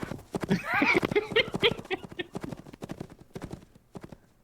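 Horses in a video game trot past with rapid, rhythmic clip-clop hoofbeats, loud and close at first and then fading, with a brief whinny early on and people talking over them.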